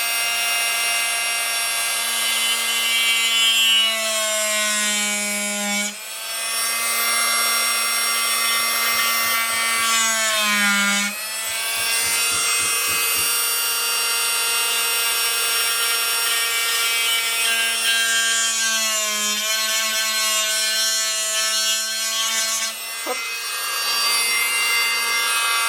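A Fein Supercut oscillating multitool saws a slot into wood, a steady high buzzing whine running loud and close for the whole stretch with brief dips in pitch where the blade bites, and no talking.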